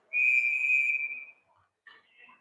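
A referee's whistle stops play in a Division II college ice hockey game, one loud, sustained shrill blast of about a second, followed by faint arena sounds.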